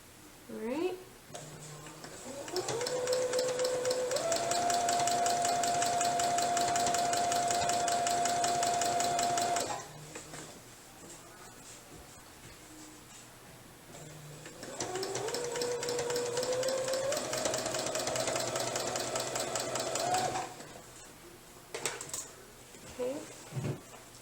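A small domestic sewing machine quilting through layered fabric runs in two long, steady bursts of fast, even stitching, with a rising motor whine and quiet pauses between the runs.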